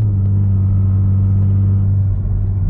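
Inside a Kia Stinger cruising on light throttle, a steady low engine drone and road rumble fill the cabin at an even level throughout, with no talking.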